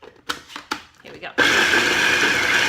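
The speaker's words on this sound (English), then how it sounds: "in my little food processor, I've got chopped up pecans, raisins, and dried figs" A small food processor chopping pecans, raisins and dried figs whirs up loudly and continuously after a few brief knocks and clatters, its steady motor drone filling the rest of the moment.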